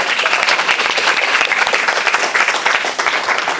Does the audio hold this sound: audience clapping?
yes